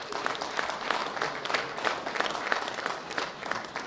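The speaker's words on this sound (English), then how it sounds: "Big round of applause for this world championship he's put on, my friend Anders Pedersen" A crowd at the World Bench Press Championships in Denmark applauds the meet director, many hands clapping in a lively, slightly pulsing rhythm heard from within the hall.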